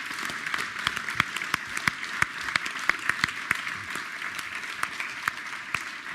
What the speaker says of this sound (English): If you guys want to give them a round of applause